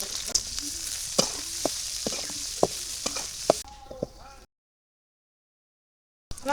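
Chopped garlic, onion and green chilli fry in hot oil with a steady sizzle, punctuated by sharp clicks of stirring, before the sound drops away into silence.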